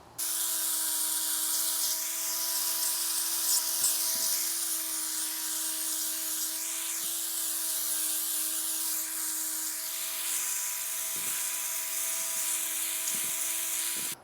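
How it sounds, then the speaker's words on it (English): A steady high-pitched power-tool whine runs throughout as an angle grinder smooths the middle edge of a porcelain tile during bullnosing, with a constant tone and a few faint clicks and knocks, no talk. "attaching this to my grinder just to smooth off that middle edge there"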